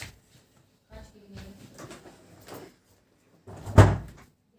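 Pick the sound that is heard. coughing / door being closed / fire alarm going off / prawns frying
door being closed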